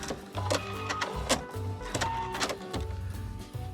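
A sewing machine tacking quilt binding runs in short bursts of rapid, close mechanical stitching hum, stopping and restarting several times with small clicks between runs.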